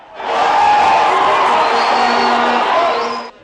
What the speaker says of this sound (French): l'appui d'un public qui applaudit à la moindre passe ou tentative d'action rwandaise